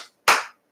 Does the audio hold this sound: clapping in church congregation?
yes